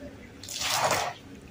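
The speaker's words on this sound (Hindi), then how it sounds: "बार बार पानी डाल रही हूँ मैं अच्छे से, और पूरा सरफ निकल जाएगा इसी तरीके से" Water is poured onto a carpet at home to rinse detergent powder out of it, making one close, wet splashing gush of about a second against a quiet background.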